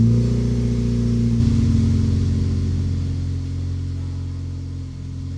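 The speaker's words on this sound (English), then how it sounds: "I guess we'll see once he's turned the car on." A Honda Civic engine starts and settles into a steady low idle, a close, loud rumbling hum that holds for several seconds.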